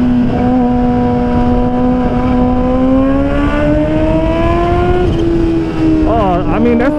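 A modified Kawasaki H2 motorcycle pulls away under hard acceleration, its loud engine note climbing steadily in pitch, then shifting into a higher, wavering whine near the end, with continuous wind and road roar beneath it.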